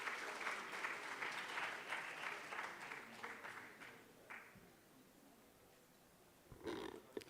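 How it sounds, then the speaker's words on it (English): Applause from a conference audience at an energy policy event, dense clapping for about four seconds that fades out, leaving quiet room noise before a short burst of sound near the end. "Please, the final clap."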